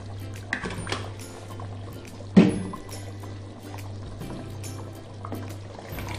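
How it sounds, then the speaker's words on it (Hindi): Oil pours into a pot of cooking beef paya, a soft liquid stream over a steady low hum, with one louder splash or clunk midway. "और इसमें जा रहा है ऑयल।"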